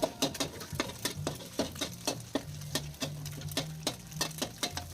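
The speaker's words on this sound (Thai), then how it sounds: "ใส่กระเทียมไปนิดหน่อยแล้วก็ผัดให้เข้ากัน ผัดให้หอมนะ" Garlic stir-frying with beaten egg in a pan, a steady run of sharp scraping and tapping strokes from a spatula, fairly close, with no talking over it.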